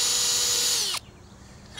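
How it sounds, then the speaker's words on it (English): A power drill whines steadily while pre-drilling screw holes for a hinge on a timber sandpit, then cuts off abruptly, leaving a quiet room. "pre-drill the holes, and we're going to put in our 38 millimeter screws"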